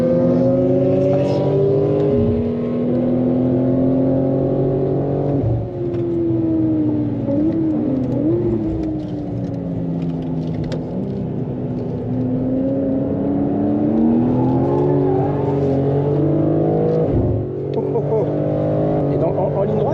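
A BMW M2 engine drones and revs on the Le Mans race circuit, heard from inside the car, with rising and falling pitch as it accelerates through gears, loud and close under continuous talking.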